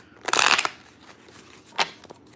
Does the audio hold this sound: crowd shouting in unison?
no